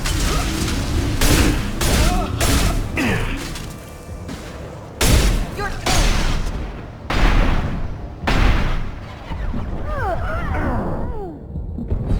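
Heavy gunfire in Mass Effect 2, a high-impact weapon firing several loud, booming shots at irregular intervals amid combat noise, with voices and bird-like chirps in the mix.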